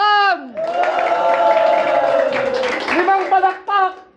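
A crowd bursts into applause on command, a steady wash of many hands clapping for a few seconds while voices shout over it.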